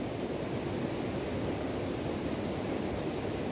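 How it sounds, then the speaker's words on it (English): Steady, broadband rush of a waterfall pouring into water, a constant hiss-like roar without breaks, moderately loud and close. "There's a waterfall here."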